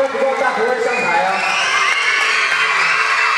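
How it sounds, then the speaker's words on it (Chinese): A crowd of children cheers and shouts steadily at an event as officials are called up to the stage, a loud, continuous mass of excited voices with whoops throughout. "掌声不够大，欢呼不够大"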